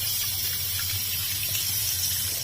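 Cold water runs from a newly installed faucet in a steady, close, continuous rush with no pauses.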